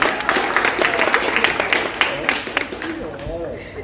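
Audience applause at a corporate stand-up comedy show, a steady wash of clapping from the crowd lasting the whole moment, with laughter and voices mixed in.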